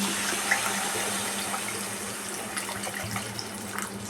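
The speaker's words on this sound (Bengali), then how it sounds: "আমি একটু জল দিয়ে আলুটাকে কিছুক্ষণের জন্য সেদ্ধ হতে দিচ্ছি।" Water runs into a pot of half-boiled potatoes, a steady close pouring wash with a faint low hum underneath and a few small splashes near the end, with no voices.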